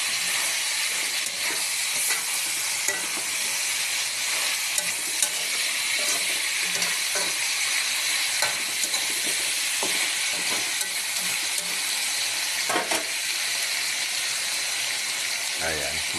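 Food frying in hot oil in a covered pan for a Filipino braised dish, a steady, loud, broad sizzle and hiss running throughout with faint stirring clicks and no speech.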